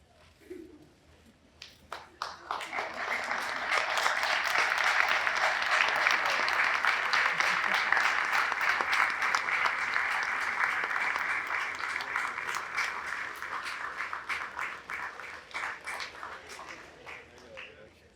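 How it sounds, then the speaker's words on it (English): Graduates at a Marine Institute graduation ceremony give their loved ones a long, sustained round of applause from a large crowd, swelling quickly and fading out after about fifteen seconds. "offer a heartfelt round of applause"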